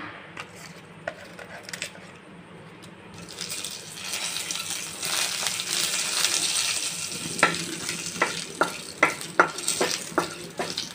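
Bay leaf and star anise dropped into hot oil for chana masala burst into a loud, steady sizzle, followed by a run of sharp spatula clicks against the pan.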